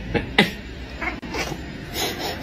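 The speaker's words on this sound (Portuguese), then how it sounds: "Esse gato fez o exato mesmo barulho do seu dono." A cat lets out a couple of short, strained vocal noises among quiet background sounds, faint and somewhat muffled.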